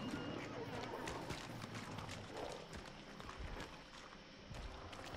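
Horse hooves clop in the video game Hunt: Showdown, a steady clatter of hoofbeats against rough background noise, with people talking over it.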